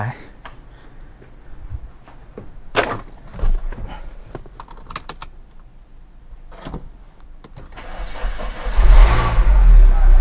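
A car with a suspected faulty control box is cranked with the key, with scattered clunks and clicks before a loud engine churn builds near the end.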